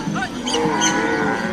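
Cattle in an African cattle camp moo, a few close, overlapping lowing calls rising and falling over a brief stretch.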